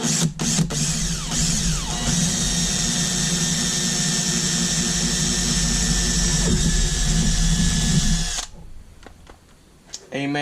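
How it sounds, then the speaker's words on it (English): A power drill with a 3/16 bit bores a hole through the center of a pipe, whining steadily and loudly with a high squeal for about eight seconds before stopping, followed by faint handling noise. "you just want to drill a hole right in the center of that"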